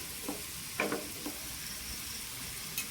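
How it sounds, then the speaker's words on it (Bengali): A cumin, ginger, garlic and onion spice paste with salt and turmeric fries with potatoes in a little oil, a quiet low sizzle broken by a few short stirring scrapes and clinks. "দিয়ে খুব ভালো করে আমি এবার ভেজে নিচ্ছি"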